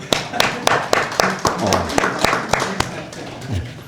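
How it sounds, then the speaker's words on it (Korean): Applause at a Confucian university lecture honouring the lecturer, scattered distinct claps from a modest group in a room, uneven and fairly close, with some voices mixed in. "박수를 한번 우리 쳐드리겠습니다"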